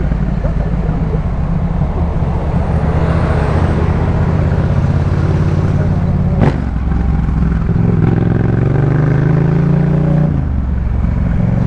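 Yamaha MT-07 motorcycle fitted with a Jeskap K4 exhaust, a loud steady engine drone on the road with traffic rumble, a sharp clatter midway, then rising revs near the end.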